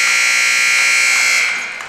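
The final buzzer at a Tufts Jumbos versus Wesleyan Cardinals men's basketball home game sounds as one loud, sustained electronic tone for nearly two seconds, then fades out.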